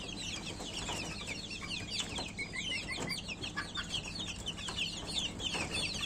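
Backyard chickens cluck and chatter in a busy, overlapping chorus, with a few sharper calls standing out among soft rustling and wing movement, faint and without any talk.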